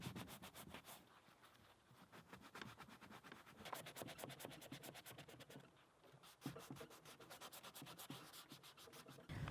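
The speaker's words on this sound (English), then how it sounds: "I'll just be using a sanding block to rough up the areas where I'm putting the molds" A sanding block scuffs back and forth over a wooden dresser, making rapid, rhythmic rasping strokes that run almost continuously for several seconds with a brief pause midway, heard close and faint, with no one talking.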